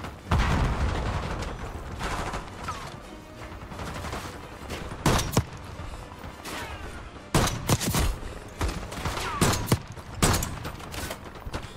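Gunfire from the Black Ops 6 campaign: loud, close bursts of shots in rapid clusters, some doubled, spread across the whole stretch with a rumbling battle backdrop between them and no voices.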